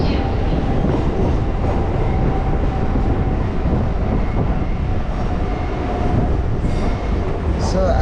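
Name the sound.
Hyderabad MMTS local train running, Falaknuma to Lingampally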